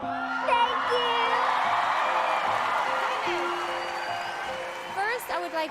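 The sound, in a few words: crowd cheering and applauding for singer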